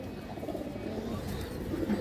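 Pigeon cooing, a low, steady murmur carrying through the whole stretch, fairly close, with no talk over it.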